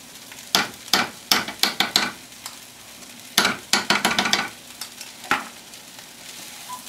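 Black-eyed peas are stirred in a cooking pot, giving a run of sharp, close scraping and clacking strokes in quick bursts, with a gentle sizzle underneath.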